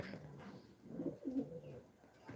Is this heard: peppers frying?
no